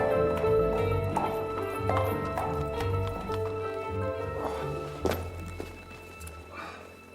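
A horse's hooves clip-clop at a steady walking pace on a hard street, fairly close, under faint ambient sounds with a heavier thunk partway through.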